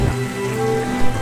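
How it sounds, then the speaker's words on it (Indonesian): Drizzling rain falls in the Trainz train simulator game at a night-time station, a soft steady patter with a low hum underneath, continuous throughout the short stretch. "hujan gerimis yang masih turun."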